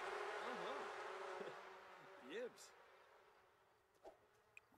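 Bees in a video game buzz in short wavering bursts, fairly faint, over a hissy background with a few soft clicks toward the end.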